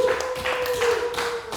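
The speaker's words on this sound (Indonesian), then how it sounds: "Tepuk tangan untuk saudara" A classroom of students applauds a classmate with light, scattered claps over a faint steady tone, fairly quiet throughout.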